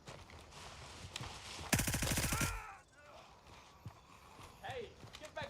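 Burst of automatic gunfire in the military shooter Gray Zone Warfare, a loud rapid rattle of shots lasting under a second, with scattered fainter pops, footsteps and game ambience around it and a voice speaking.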